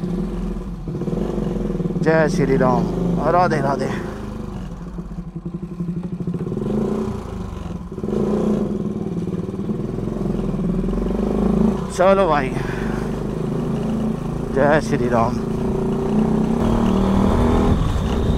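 An NS motorcycle engine runs and revs as the bike moves off, a steady close engine drone with rising bursts, while people talk over it.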